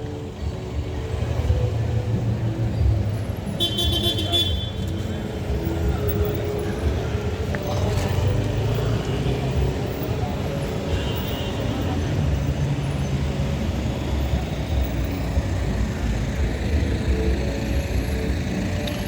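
Evening road traffic in Salcedo, Makati City rolls past in a continuous wash of car, bus and truck engines, with a short hiss of air brakes early on and a steady mid-distance rumble throughout.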